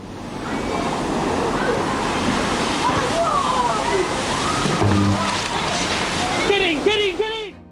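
Ocean waves surge and slosh in a continuous, loud wash of water, illustrating a tsunami striking Hawaii. A voice speaks over the water throughout.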